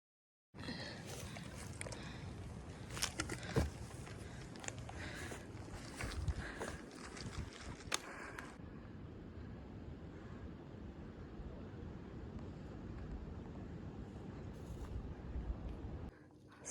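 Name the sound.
wind blowing on mountain trail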